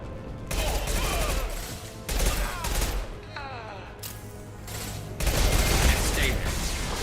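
Gunfire in the video game Mass Effect, aimed at a loosening fuel tank: sustained rapid weapon fire with dense, continuous bursts and booming impacts, loud and close.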